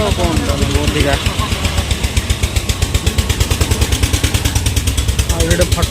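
A putt-putt tractor engine chugs steadily nearby, its fast regular beat running through the whole stretch, with a voice talking over it at the start and again near the end.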